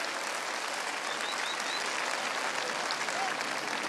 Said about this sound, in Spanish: Y un aplauso fuerte para Dios nuestro Señor y que los proteja.